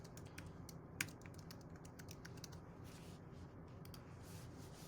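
Quiet, brisk tapping of keys on a computer keyboard as a password is entered, a rapid irregular run of soft clicks with one sharper keystroke, heard alone over a faint room hum.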